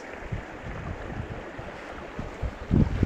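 Wind gusts blow across open hillside fields, a continuous rumbling roar with buffeting bursts against the microphone, growing stronger toward the end.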